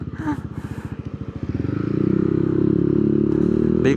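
Motorcycle with a new CVT setup, 1K center spring and clutch spring, idling with a steady pulsing putter that rises into a smoother, louder hum as it revs up, close by and alone.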